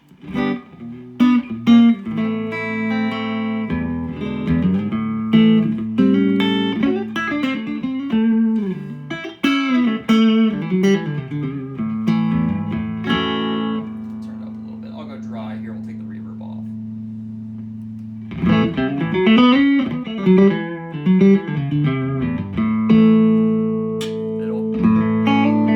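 Epiphone Casino electric guitar from the 1990s, cherry finish, fitted with an overwound P90 pickup, playing loud, bassy single notes and chords with sustained ringing passages, a brief quieter stretch midway, then more playing.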